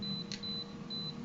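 An electric hot plate gives a faint, thin beep as it switches on, with one short chirp and a steady quiet tone in a calm kitchen.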